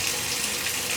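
Hot water running from a bathtub tap, a steady hiss of flowing water filling the whole moment, close and even.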